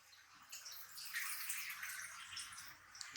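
Water poured into a pressure cooker for homemade Indian dal, a soft splashing, gurgling pour that swells and continues for a few seconds, quiet and close in a home kitchen.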